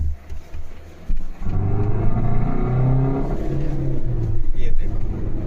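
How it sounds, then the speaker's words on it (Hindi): A car whose engine mounting is faulty, though it sounds like a burst turbo or intercooler pipe, accelerates hard from slow speed, its engine note rising loudly and steadily close by with a rough, strained tone. "थोड़ा मंदी कर लेते हैं गाड़ी को, फिर एकदम से पिकअप लेंगे, फिर आवाज़ आएगी।"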